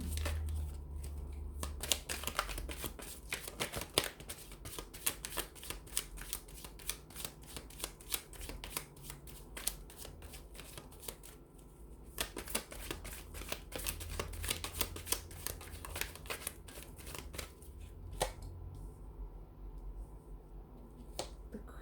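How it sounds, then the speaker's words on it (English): Tarot cards shuffled by hand, a steady run of soft riffling and snapping card clicks over about twenty seconds, close and fairly quiet, with no talking. "we'll give the cards a shuffle here"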